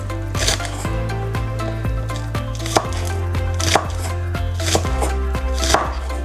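A knife chops green onions on a cutting board in a steady, close, brisk rhythm of sharp taps, with a low steady hum underneath and no talk.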